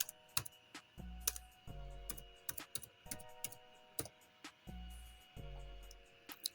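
Typing on a computer keyboard in quick bursts of sharp clicks, with a deeper thud from a larger key now and then, close and quiet against a faint steady background hum.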